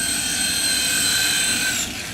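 A cheap XVB 2CH infrared RC toy helicopter flies close by, its tiny motor and rotor giving a loud, steady high-pitched whine that cuts off abruptly near the end as it is caught.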